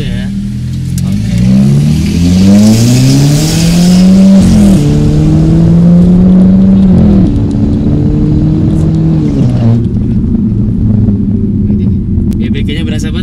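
Modified Mercedes-Benz C250 W204 accelerating on a test drive, engine revs climbing through several gears with clear shift drops, loud and close from inside the car, with people talking over it.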